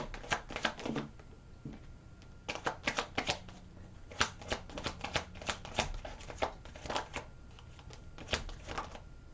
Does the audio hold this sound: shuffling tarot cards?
yes